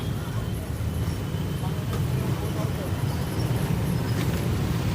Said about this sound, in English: I'm sure y'all heard the background noise of cars from my side here